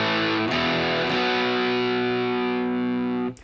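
Distorted electric guitar playing the opening of a riff, a few sharp strummed chord hits followed by a long ringing three-note chord that sustains before cutting off, loud and alone.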